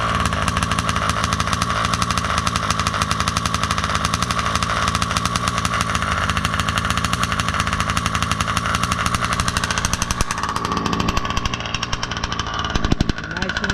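A gas engine in a Baja 5B RC car idles after its first fire, a loud, steady, buzzing two-stroke drone that barely changes, with a few rattling knocks near the end.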